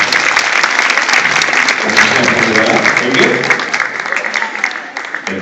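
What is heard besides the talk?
audience applause at hypnosis show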